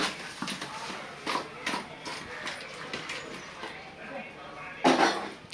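A fish curry is stirred in a cooking pot, with intermittent scraping and clinking of a utensil against the metal and a louder clank near the end, over quiet background talk.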